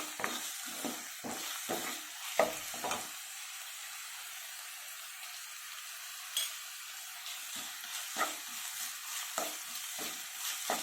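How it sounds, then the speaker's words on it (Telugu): Ginger garlic paste fries in a pan for a potato and peas curry, a steady soft sizzle with a run of scraping stirs, clustered strokes at the start and scattered ones later, close and fairly quiet with no talk. "ఇవి బాగా ఫ్రై అవ్వాలి ఇప్పుడు కొద్దిగా అల్లం వెల్లుల్లి పేస్ట్ కూడా వేసుకున్నాము"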